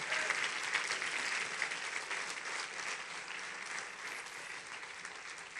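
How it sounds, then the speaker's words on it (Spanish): A church congregation at a fasting service claps steadily for a woman, a dense, even wash of many hands that stays close and full for several seconds before easing slightly. "Un aplauso a ella."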